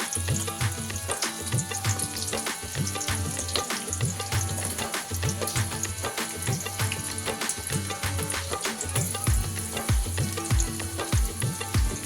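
Onions and green chillies frying in ghee in a pan for an Ugadi special biryani, a steady close sizzle with occasional stirring clatters running throughout, no talking.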